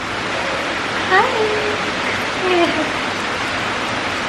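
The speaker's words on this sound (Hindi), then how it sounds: "आज बारिश भी हो रही है" Steady rain falling on a cold, wet day fills the background with an even hiss, while a brief high voice greets someone and a couple of soft, chirpy vocal sounds rise above it.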